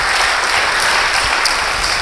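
A church congregation claps during an Indonesian-language worship service, a loud, dense, even wall of applause lasting the whole moment with no talk over it.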